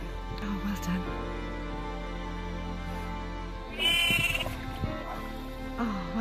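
A sheep stuck in mud bleats a few times, wavering cries rising over a voice talking throughout, with one louder bleat in the middle.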